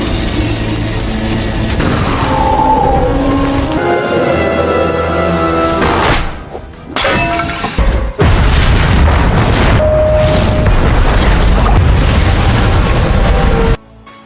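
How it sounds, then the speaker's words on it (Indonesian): A house blows apart in a film when a spark ignites leaking gas, sending out loud, sustained booming and rumbling blasts. There is a brief break and dropout before a second long roar that cuts off abruptly near the end. "rumah itu keburu meledak akibat percikan api mengenai gas yang bocor"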